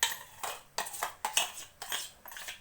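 A utensil scrapes and clinks against a bowl while mashed banana is mixed into biscuit dough, five or six rhythmic strokes, close and fairly quiet, with no talking.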